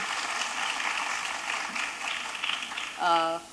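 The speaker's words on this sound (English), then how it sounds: "The claps are reserved for my lovely niece." Audience applause at an Arangetram dance recital, a sustained wash of clapping from a crowd that fades near the end, where a brief tonal voice sound cuts in.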